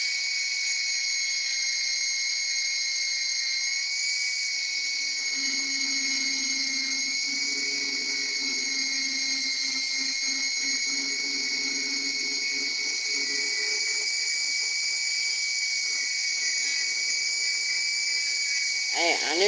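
A rotary tool buffs and polishes a small object with a steady, high-pitched whine that holds constant throughout, close up and loud, its pitch dipping slightly under load.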